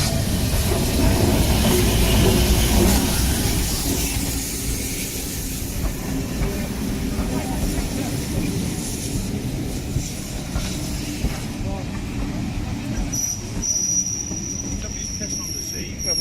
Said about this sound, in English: we'll see if an old steam train pulls up